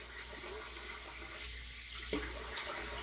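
Water runs steadily from a tap while a razor is rinsed during a wet shave, a faint continuous splashing with one brief clink near the end.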